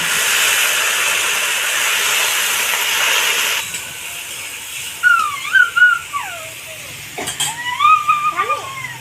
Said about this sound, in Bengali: অল্প পরিমাণে জল দিয়ে মশলাটাকে কষে নেব।